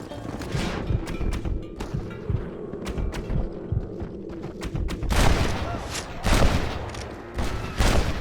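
Gunfire rings out in the Western video game Red Dead Redemption as a fight with rustlers unfolds: sharp rifle and pistol shots crack repeatedly in irregular bursts, some heavier booming volleys, against an outdoor ambience with occasional game voices.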